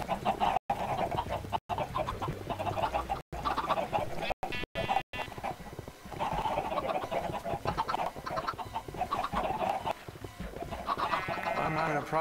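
A flock of chickens in a video game clucks and squawks continuously, busy overlapping calls close by with a few brief dropouts, sounding somewhat synthetic.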